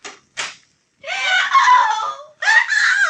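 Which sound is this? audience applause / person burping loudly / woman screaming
woman screaming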